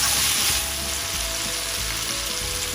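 Chicken seasoned with salt is mixed in a hot pan, giving a loud, steady, close sizzle with faint stirring underneath and no talking.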